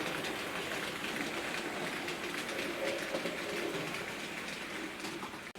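A Hornby Class 08 'Laira' R3485 model shunting locomotive runs along its track, giving off a continuous close whirring rumble that stays fairly even throughout and trails off slightly at the end.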